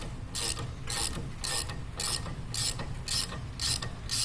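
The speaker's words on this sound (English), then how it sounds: "13mm 3/8 drive socket and a 3/8 drive ratchet to remove this bolt to get this bracket" A 3/8 drive ratchet with a 13mm socket removing a brake line bracket bolt on a 2012 Jeep Compass, giving about eight evenly spaced bursts of close, crisp ratchet clicking with brief pauses between strokes.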